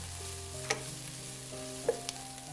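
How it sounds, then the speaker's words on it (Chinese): Diced onion stir-fried in olive oil in a pan: a steady, soft sizzle runs throughout, broken by a few sharp clicks and scrapes of the spatula against the pan. "然后先把洋葱丁放入锅中，然后开始翻炒， 炒到洋葱丁变黄变软。"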